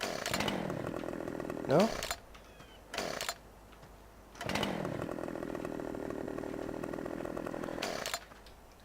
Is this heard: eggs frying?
no